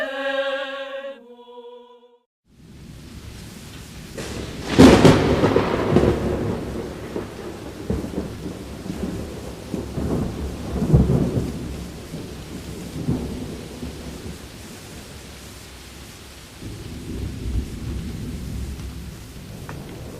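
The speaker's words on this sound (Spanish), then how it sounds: "Todavía le dan miedo las tormentas." A thunderstorm with a heavy thunderclap rolling out and smaller rumbles after it, over constant rain. A brief musical tone sounds before the storm begins.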